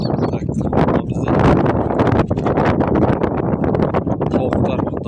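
Strong wind blows across a microphone outdoors at a chicken yard, with continuous loud buffeting and rustling throughout.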